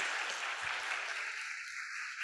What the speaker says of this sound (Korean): 자, 잘했습니다. 박수!